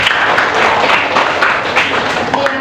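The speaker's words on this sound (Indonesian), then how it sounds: "Oke, mantap, kasih tepuk tangan dulu." Students in a classroom break into a burst of clapping, a brisk, crowded patter of many hands that holds steady for a couple of seconds.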